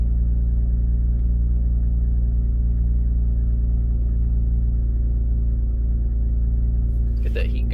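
A 2006 Saturn Vue engine idles after a cold start from sitting nearly two months, a steady low droning rumble heard up close, constant throughout, with a brief rustle near the end.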